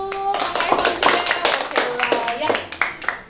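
A small group in an Indonesian group counseling session claps together, a quick run of irregular, close hand claps mixed with voices talking over them.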